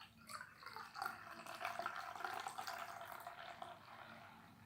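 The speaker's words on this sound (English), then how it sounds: "I'm gonna do a straight on pour, which is kind of characteristic of the Trappist." Pannepot Grand Reserva beer poured straight down into a glass, a faint, steady liquid trickle and splash lasting several seconds with no voices.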